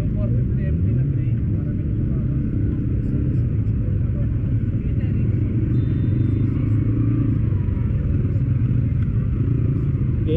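Several CFMOTO 450 MT motorcycles ride off-road through mud, their engines keeping up a steady, loud, low rumble throughout with no clear gaps.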